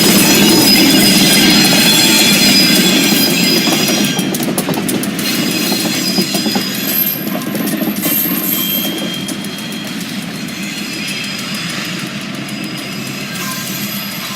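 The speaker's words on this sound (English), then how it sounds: "the squealing of the wheel flanges scraping along the rails and the sound of the rails groaning" A Great Lakes Central train rumbles along the rails in Traverse City, Michigan, with steady wheel noise, thin high squeals of wheel flanges drifting above the low roar, gradually easing off toward the end.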